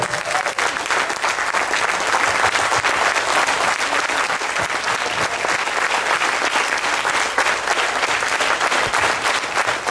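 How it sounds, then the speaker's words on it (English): A large audience gives a standing ovation to the contest kids, steady loud applause filling the hall for the whole stretch with no letup. "I request all of you to stand up and give a standing ovation to these wonderful kids"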